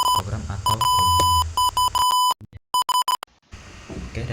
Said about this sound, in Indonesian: buzzer akan memberikan peringatan status kebakaran dini